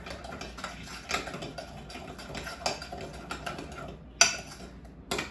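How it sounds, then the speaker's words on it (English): Lemon blueberry pound cake batter gets a quick stir, a run of close, light scraping and clicking strokes against the bowl with one sharper knock near the end. "Another quick stir."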